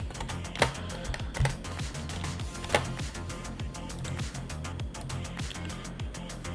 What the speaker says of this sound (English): And so I'm just gonna type,